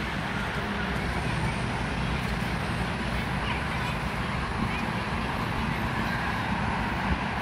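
Highway traffic near Ang Mo Kio park in Singapore gives a dense, steady roar that fills the whole stretch without letup, with a voice faint underneath.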